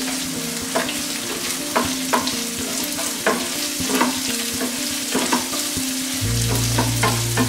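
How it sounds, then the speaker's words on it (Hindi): Chopped onion frying in a pan alongside green chillies for a South Indian tomato onion chutney, a loud close sizzle with repeated spatula scrapes and knocks against the pan, no voices. "अब हम इस पर डालेंगे कटा हुआ प्याज। प्याज को हम हल्का ब्राउन होने तक भूनेंगे।"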